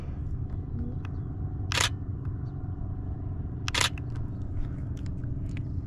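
Two crisp DSLR camera shutter clicks, about two seconds apart, over a steady low outdoor rumble at Lake Hodges, California.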